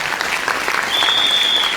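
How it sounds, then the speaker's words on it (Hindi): An audience bursts into brief, dense, loud applause at a DXN business success-story talk, with a thick wash of clapping hands and no voices over it. "एक बार फिर से जोरदार ताली सभी लोग के लिए बजाइए"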